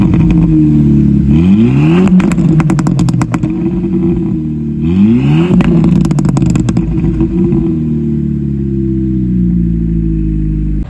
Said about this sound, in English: The pops sound louder, the car does sound a lot louder now.